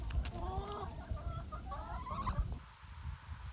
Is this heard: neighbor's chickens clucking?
yes